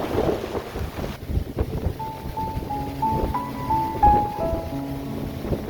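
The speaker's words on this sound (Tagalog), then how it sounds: "Mahangin, mahangin." Sea wind gusting against a microphone aboard a small fishing boat in the early morning, a steady rushing roar with faint tonal hums underneath, no voices.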